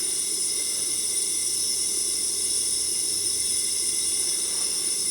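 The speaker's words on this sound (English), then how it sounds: "I'll disconnect the battery right now, and I'll let you know how long it keeps steaming." A budget DIY smoke machine keeps steaming after its battery is disconnected, producing a continuous, even high hiss that holds steady and close throughout.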